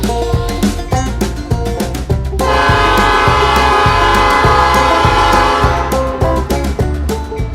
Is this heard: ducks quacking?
no